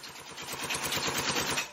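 Gel blaster firing in full automatic mode, a rapid steady burst of mechanical clatter with a whirring motor underneath, close and lasting under two seconds.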